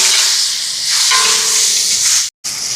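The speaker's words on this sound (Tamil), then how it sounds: "இப்போ இதில் வந்து கறிமிளகாய், இதோட தக்காளி பழம் எல்லாத்தையும் சேர்த்து வதக்கிடுவோம்" Curry chillies and tomatoes sauté in a hot pan with a steady, loud sizzle and hiss, briefly cut by a moment of silence near the end.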